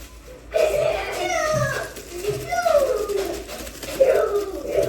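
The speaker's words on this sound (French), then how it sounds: "Mais c'est une colombe." A dove coos in several soft, repeated calls, near and fairly loud, with children's voices talking over and between the calls.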